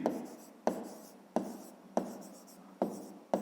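A pen writes on paper during a fifth-grade maths geometry exercise, making five distinct scratchy strokes at a steady rhythm, each starting sharply and fading, close and quiet.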